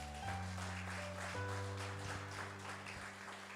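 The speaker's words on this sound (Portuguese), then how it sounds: "Diga glória a Deus e aplauda o Senhor Jesus." Church congregation applause rises over sustained organ-like keyboard chords, a steady wash of clapping that continues throughout.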